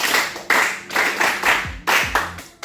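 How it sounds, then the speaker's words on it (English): Rhythmic group clapping from an audience at a lecture on drug and substance abuse, loud in-unison bursts of claps in a steady beat with low voices between. "Clap for her accordingly."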